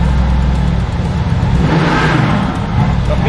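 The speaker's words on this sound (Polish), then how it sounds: "Mercedes GTS, 600 koni, V8, podwójna turbina." A Mercedes GTS with a 600-horsepower twin-turbo V8 idles and revs close by, giving a loud, steady, full-bodied rumble that swells briefly midway through.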